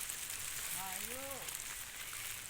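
Storm rain in Laos falls steadily as a constant hiss, with a brief voice heard faintly partway through.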